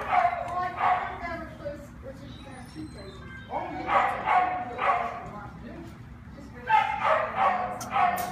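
Several dogs bark and yip in bursts at the San Bernardino City animal shelter, some near and some farther off, over a steady background hum.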